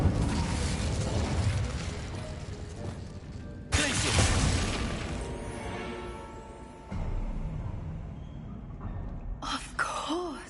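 Incendio fire spell cast in Hogwarts Legacy: a sudden whooshing fiery burst that flares loudly, then crackles and fades over several seconds, followed by a second softer swell and a brief magical shimmer at the end.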